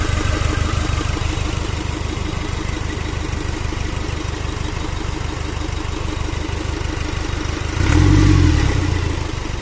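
An idling engine that sounds like a motorcycle chugs steadily and loudly up close, then gets one short rev near the end before settling back to idle.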